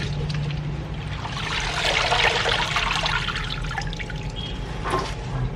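Water splashing and trickling steadily as sweet potato leaves are rinsed for a Filipino coconut-milk salad, a close, continuous wet swish with small drips and sloshes throughout.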